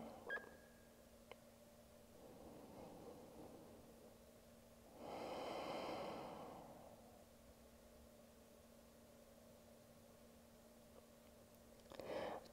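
A single long exhale during a hip-opening yoga stretch, a soft breathy rush lasting about two seconds in an otherwise quiet room, with a faint steady hum underneath and a brief rustle near the end.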